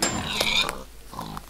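A Minecraft pig grunts and oinks in a short burst of game sound, fairly close and clear, with a few quick snorts fading out.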